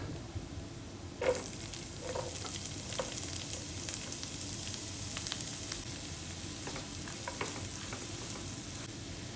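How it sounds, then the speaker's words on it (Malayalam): Garlic and onion sauté in a pan for chicken pasta, making a soft, steady sizzle with scattered stirring clicks and light scrapes, fairly quiet and close with no voices. "വെളുത്തുള്ളിയുടെ കളറ് ചെറുതായിട്ടൊന്ന് മാറി വരുമ്പോൾ ഇതിലോട്ട് ഉള്ളി ഇട്ട് കൊടുക്കാം"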